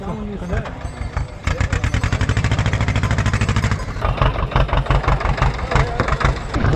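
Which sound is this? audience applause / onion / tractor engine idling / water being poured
tractor engine idling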